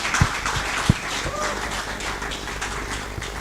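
An audience at a prize-giving event applauds in a dense, steady wash of clapping with a few sharper hand claps standing out near the start.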